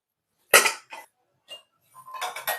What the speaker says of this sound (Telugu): బాండీ అయితే పెట్టానండి పొయ్యలకి ఇచ్చాను